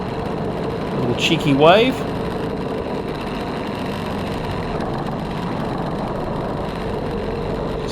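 A race car engine drones steadily from inside the car while the driver weaves to warm the tyres before a club race final, a constant close mechanical roar with a brief spoken remark near the start.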